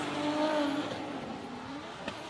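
A drift car swinging into a drift at a Teesside drifting event, engine roaring and tyres squealing with a rising-falling whine at a moderate distance, fading after a couple of seconds.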